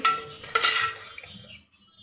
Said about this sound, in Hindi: थोड़ा सा हम इस तरह से चम्मच की मदद से ठंडा करेंगे